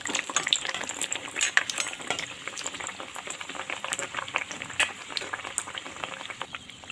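Food fries in hot oil with a soft, continuous crackle and scattered bright pops, fairly quiet and close, with no voices.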